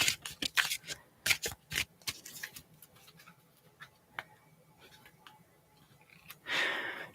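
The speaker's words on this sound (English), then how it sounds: "I'm going to go ahead and start shuffling the cards." Cards are shuffled in quick crisp riffles and snaps, several bursts close up, then quieter taps and a final soft riffle.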